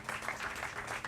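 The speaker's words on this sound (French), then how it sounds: "je vais vous demander tout simplement d'applaudir très fort ces deux" An audience at a television show launch in a hotel claps steadily, a short burst of dense applause filling the room.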